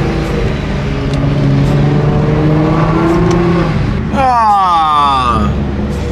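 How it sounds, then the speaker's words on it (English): A Nissan GTR engine drones loudly while cruising, then a throaty downshift blips near the end with a quick rising rev, recorded from inside the car. "The downshift sounds so good."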